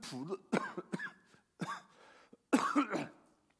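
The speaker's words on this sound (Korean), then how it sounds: "감기 후유증이 기침을 나게 하네요." Several harsh, close coughs from a preacher recovering from a cold, in quick bursts, with throat clearing between them and no speech.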